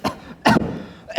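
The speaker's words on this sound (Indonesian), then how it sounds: "Maaf, batuk." Two short, sharp coughs close to the microphone, spaced about half a second apart, with a third burst starting just after.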